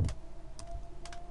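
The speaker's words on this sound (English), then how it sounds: "Now we're gonna type the text." Keys tapped on a computer keyboard while entering text in a CorelDRAW birthday card design, a few quiet clicks in short bursts near the start, middle and end.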